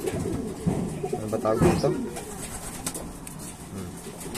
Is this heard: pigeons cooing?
yes